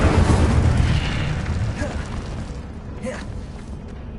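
Fire spell blast from Hogwarts Legacy, a loud booming burst up front that rolls into a dense crackling rumble and fades over a few seconds, with a voice talking underneath.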